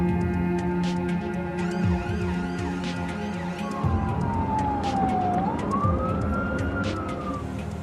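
A wailing emergency-vehicle siren sweeps up and down over steady road traffic noise. An ambulance is heading to a motorbike crash scene. The siren stays clear and fairly close throughout.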